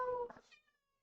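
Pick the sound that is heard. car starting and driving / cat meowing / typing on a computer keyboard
cat meowing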